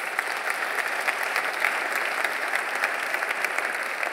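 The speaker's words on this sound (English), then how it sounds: "A big applause for Jeff Bezenius." Awards ceremony audience applauds steadily, a dense even patter of many hands clapping at moderate volume with no other sound.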